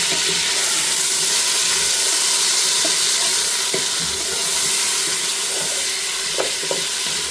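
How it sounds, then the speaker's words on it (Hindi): Lamb mutton frying in a pan for matar gosht, giving a steady close sizzle and crackle with a few brief stirring clinks, no talk. "लैम्ब गोश्त है, ये डालेंगे। और इसको अच्छी तरह से भूनना है।"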